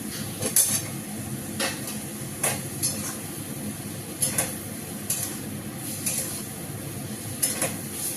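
Koftas going into a pan of well-fried spiced masala, giving a steady close sizzle with scattered metallic clinks and taps of utensil against pan throughout.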